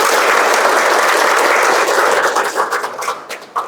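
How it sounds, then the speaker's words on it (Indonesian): Classroom audience applauding a classmate, a steady loud wash of clapping that thins out and becomes more scattered toward the end. "Aplaus dulu buat temannya"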